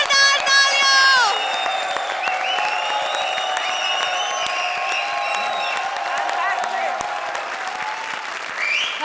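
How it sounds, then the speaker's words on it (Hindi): Studio audience applause with cheering on an Indian comedy show, a dense, steady wash of clapping that holds loud throughout, with a brief tonal musical sting at the start. "जोरदार तालियां!"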